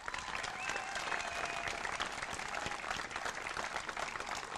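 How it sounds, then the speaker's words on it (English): A crowd at a college baseball ceremony claps for the sophomore players in a steady, dense round of applause that holds evenly throughout. "I'd like to give them a big round of applause"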